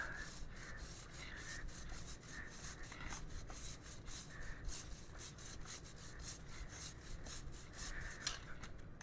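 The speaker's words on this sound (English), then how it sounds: "We're going to go all the way around it and brush it off." A brush scrubs WD-40 off the drive chain of a 2025 Lifan KPT 400 motorcycle, giving a close, steady run of rapid rubbing strokes that continues throughout without any talk.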